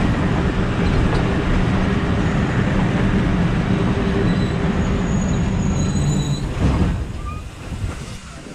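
Steady rumble of the Thal Express passenger train running from Rawalpindi to Multan, loud and continuous wheel-on-rail noise with faint high squeals, easing slightly near the end.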